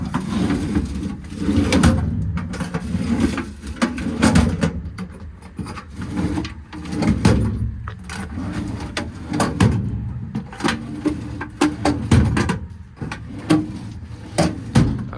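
American Eagle twist-lock drawers on a 2008 Kenworth T370 service truck bed being opened and shut, giving repeated metallic clunks, slides and latch clacks at an uneven pace, close by.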